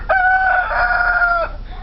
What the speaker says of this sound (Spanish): y el otro gallo sigue cantando